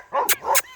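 A herding dog working cattle barks twice in quick succession at close range, with sharp, bright yelps, outdoors during livestock handling.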